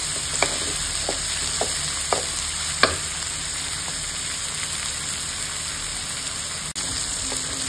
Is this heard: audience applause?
no